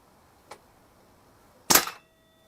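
An SMK XS38 air rifle fires once at a target, a sharp loud crack with a short tail, preceded by a faint mechanical click; otherwise quiet.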